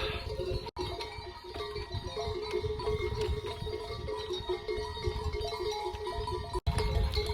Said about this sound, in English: a young boy probably a, I don't know, 14, 15-year-old boy who's leading these goats down the path